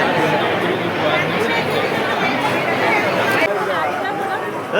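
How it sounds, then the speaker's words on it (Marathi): Dense crowd chatter fills the Siddhivinayak temple grounds, a steady, close wash of many overlapping voices that holds at an even level without pause. "खूप गर्दी आहे."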